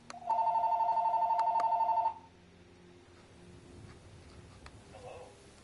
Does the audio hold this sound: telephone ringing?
yes